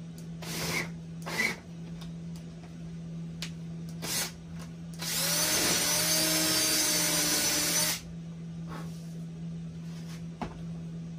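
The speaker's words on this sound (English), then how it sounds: "Drill that hole." A power drill whines steadily for about three seconds, biting into the wood of an old panel door, surrounded by scattered clicks and knocks and a constant low electrical hum.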